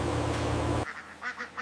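Khaki Campbell ducks at a clean, well-kept duck farm give a few short quacks after a loud burst of steady noise, fairly close and without speech.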